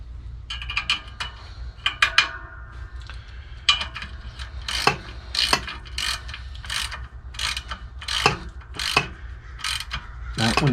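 Ratchet wrench clicking as a bolt is driven into the clutch of a Ford 641 tractor, bursts of sharp, close pawl clicks in irregular runs with brief pauses between strokes and no talk.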